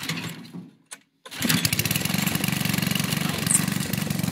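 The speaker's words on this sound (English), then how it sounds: "So now I'm going to fire up the conveyor and then the tractor." After a short scuffle and a brief silence, a heavy tractor engine sputters to life and settles into a loud, steady chugging idle at a firewood processing setup.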